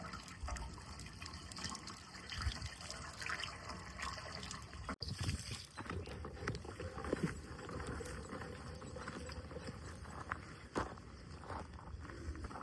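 Water pours steadily into a field pipe outdoors, a continuous splashing trickle and gush that runs the whole time at moderate level, with footsteps and background noise around it.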